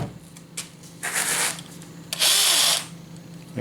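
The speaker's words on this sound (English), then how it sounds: "Then take drill" A power drill drives screws into the wood of a Harbor Freight Windsor workbench during assembly: two short, close whirring bursts separated by quiet pauses.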